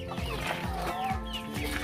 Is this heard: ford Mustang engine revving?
no